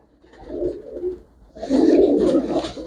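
Pigeons coo nearby in two soft, throaty bursts, a short gentle phrase first and then a longer, louder rolling coo.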